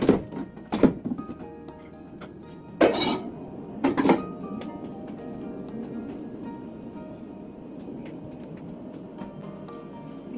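An egg and hotdog frying together in a pan, opening with a few sharp metallic clanks of utensils against cookware, then settling into a steady, low, continuous sizzle-like hiss with no talking.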